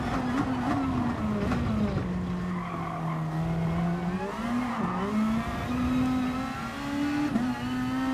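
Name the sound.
race car engine while overtaking, from video game GT Sport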